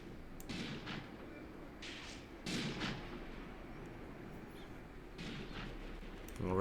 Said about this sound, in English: See our mortars firing as well.